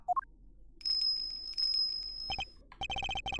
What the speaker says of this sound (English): And is that a bell around its neck? That explains the sound, I suppose.